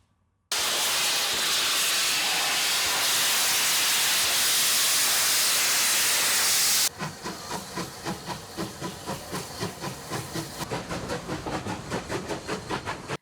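A loud, steady roar of escaping steam hisses for several seconds, then gives way to a rhythmic chuffing of a restored Canadian Pacific steam locomotive pulling away.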